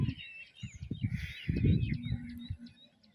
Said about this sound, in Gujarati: દાણા ચરવા પક્ષી આવી જાય